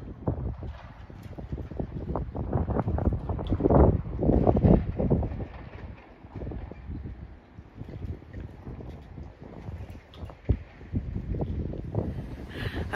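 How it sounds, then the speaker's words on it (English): Strong wind gusting outdoors on a rainy, stormy day, blustering and buffeting the microphone in loud, uneven surges that peak and ease throughout, with a rumbling low roar and a few sharp knocks near the end. "Oh my gosh, it's so windy and it's raining."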